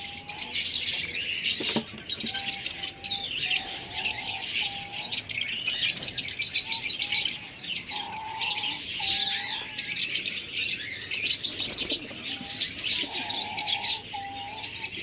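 Pigeons coo inside their coop, soft repeated throaty calls weaving through a constant bright wash of chirping birds, close and steady with no talking.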